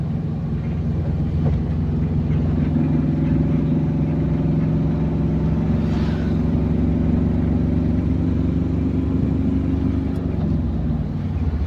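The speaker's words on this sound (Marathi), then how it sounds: "आपली गाडी चालू झाली 40-50 वर." Pickup truck driving along an open road outside the city at about 40-50, a steady low engine and road rumble continuing loud and close throughout, with no talking.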